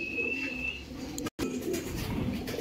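Pigeons coo low and steady on a 150-pair pigeon farm in Ramanathapuram, a continuous murmur of soft calls close by with a brief dropout in the middle, no talking.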